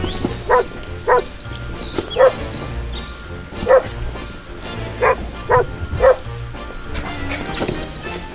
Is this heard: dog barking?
yes